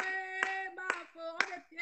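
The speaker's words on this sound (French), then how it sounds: "Applaudissons pour Mafo." Three evenly spaced handclaps ring out from an audience. The claps are faint and sit over a sustained sung or musical tone.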